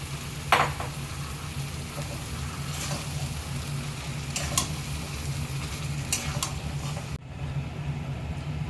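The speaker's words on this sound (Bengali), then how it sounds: "এবার যে মাংসটা ম্যারিনেট করেছিলাম এটা এবার এর মধ্যে ঢেলে দিলাম।" Marinated chicken tipped into a hot pan, a steady close sizzle with a few scraping stir sounds, ending in a sharp clatter before the frying settles back.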